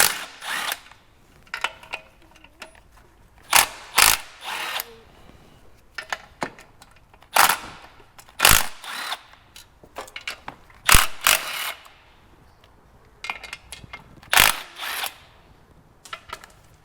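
A ratchet loosens 10mm clutch pressure plate bolts on a Mazda MX-5 Miata, in irregular bursts of close clicking and metallic ratcheting with quiet gaps between strokes.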